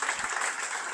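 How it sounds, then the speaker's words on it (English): Applause from an audience at a Laravel Greece tenth-anniversary meetup in Athens, a steady crowd clapping that fills the whole second at moderate loudness, with no talk over it. "So a big round of applause for them."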